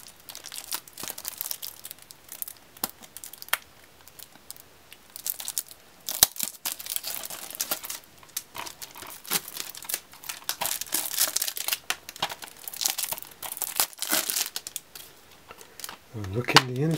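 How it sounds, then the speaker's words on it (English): Plastic wrap is torn and peeled off a boxed PS4 copy of The Last Guardian, giving close, sharp crinkling and crackling bursts in irregular clusters across the whole stretch. "let's just open the plastic"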